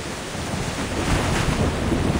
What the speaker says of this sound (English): There are big waves on the sea.